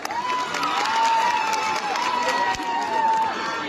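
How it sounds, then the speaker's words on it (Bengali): An audience at a stage event for a Bengali TV serial star claps and cheers continuously, a busy crowd roar with whistling tones and shouts throughout. "নিজেদের জন্য প্লিজ একটা জোরে হাততালি হয়ে যাক"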